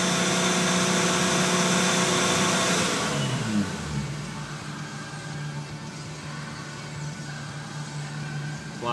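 A 2001 Subaru Outback engine held at high revs, a steady loud drone that drops away as the throttle is released, then settles into a lower, even idle-like hum.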